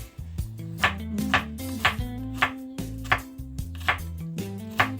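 A kitchen knife chops ingredients for Jamaican saltfish and kale on a board, striking in a quick irregular rhythm of sharp, close knocks with faint pitched ringing, and no speech.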